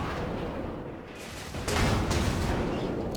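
Naval gun shells from a North Carolina battleship fire and strike a target in World of Warships, heard as a dense, rumbling barrage with a louder burst of impacts midway through.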